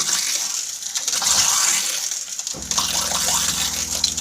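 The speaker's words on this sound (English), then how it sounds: "Once again, the pump's coming on." An RV water pump in a Grand Design Imperial travel trailer kicks on with a low steady hum partway through, under hissing, splashing water from a slightly opened faucet during winterizing.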